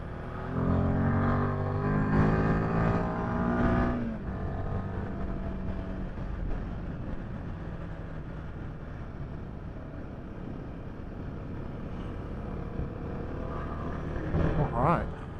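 A Royal Enfield Himalayan 450 motorcycle cruising at partial throttle, its engine a steady drone under heavy wind rush, with a brief pitch change early on before settling into an even, continuous hum.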